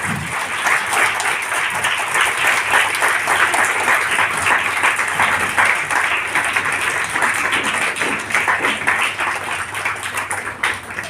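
Students at a school Hindi inter-school debate competition applaud a shield award, a sustained, even wash of many hands clapping that continues for eleven seconds.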